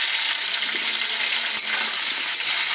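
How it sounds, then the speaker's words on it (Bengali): Loud, continuous crackling sizzle of large potato chunks frying in oil, close by and steady throughout, with a faint clink partway through. "লাল লাল করে আলুগুলো ভেজে নেব আগে"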